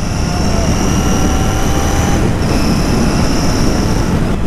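A new motorcycle's engine whistles during a test ride, a thin steady high whine over loud continuous wind and road roar.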